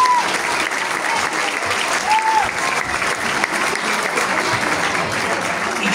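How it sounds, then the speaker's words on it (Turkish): Audience applauds steadily throughout at a school chess tournament award ceremony, dense clapping from a crowd in a hall, with faint voices underneath. "Alkışlarla sahneye geliyor İnan Bey"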